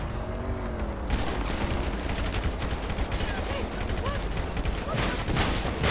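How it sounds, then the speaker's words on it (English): Dense automatic gunfire from the video game GTA 5 during a police motorcade ambush, sustained bursts of rapid shots filling the whole stretch, loud and close with layered overlapping weapons. "I'm just putting down rounds right here"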